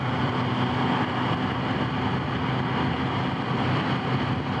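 A Kawasaki ZH2 motorcycle engine on the move, heard as a steady, dense engine drone mixed with wind rush, constant in level throughout with no talk.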